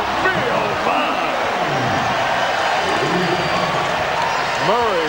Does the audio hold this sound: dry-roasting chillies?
no